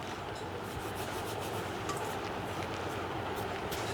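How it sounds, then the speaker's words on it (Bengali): Fishing bait ingredients for kalibaush fish are crushed into powder, giving a soft, steady rasping and grinding that continues evenly and quietly throughout with no talk. "এইভাবে সুন্দর করে গুঁড়ো করে নেবেন।"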